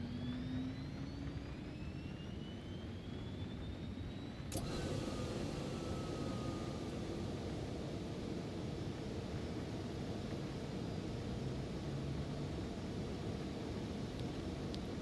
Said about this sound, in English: We'll go ahead and start the engines.